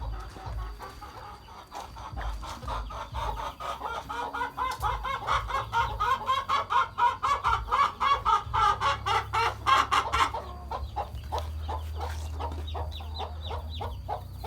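A flock of chickens on a farm clucking busily nearby, a rapid overlapping chorus that swells in the middle and then thins to scattered clucks.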